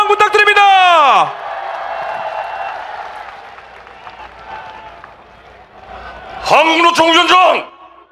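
Crowd at a Korean presidential election campaign rally in Yeouido applauds and cheers loudly for several seconds between bursts of amplified speech from a loudspeaker.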